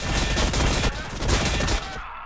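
Massed troops fire rapid volleys in the Warhammer Battlesector strategy game, dense overlapping gunshots crackling continuously for about two seconds before cutting off abruptly.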